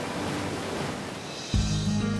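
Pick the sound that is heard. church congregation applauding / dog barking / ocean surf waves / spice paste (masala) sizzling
ocean surf waves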